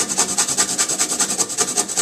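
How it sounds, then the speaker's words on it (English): A frozen jalapeno pepper is rubbed over a kitchen grater in quick, even rasping strokes, close and steady, with no voices. "you just grate it"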